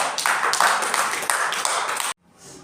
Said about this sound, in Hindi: चलो ताली बजाओ बेटा